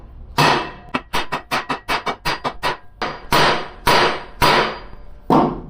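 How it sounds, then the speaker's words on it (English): Metal hammer blows drive a U-joint cap down on a driveshaft for an S10 Blazer, a rapid burst of sharp, ringing strikes followed by a few heavier, evenly spaced hits, loud and close. "gotta hammer this cap down some"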